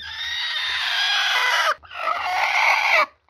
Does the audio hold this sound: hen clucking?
yes